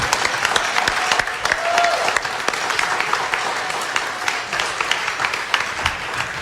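Applause from a gala concert audience after a youth music camp performance, dense clapping with sharp individual claps standing out, continuous and moderately loud across the whole stretch.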